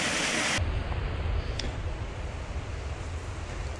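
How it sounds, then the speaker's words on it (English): Small waterfall in the outdoors near a canoeing and fishing spot, a steady broadband rush of falling water that stays constant throughout, with some wind buffeting at the microphone. "look at a couple of waterfalls"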